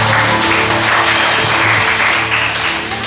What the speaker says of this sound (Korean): 감사하며 주님께 박수하십시오.